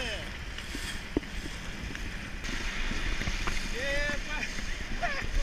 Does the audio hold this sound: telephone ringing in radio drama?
no